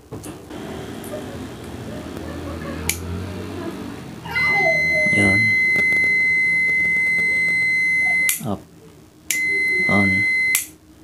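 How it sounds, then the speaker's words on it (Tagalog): A multimeter in buzzer mode, checking continuity on an electric kettle under repair, sounds a loud steady high-pitched tone that holds for about four seconds, breaks, then returns briefly, with a person talking. "Yun buzzer mode."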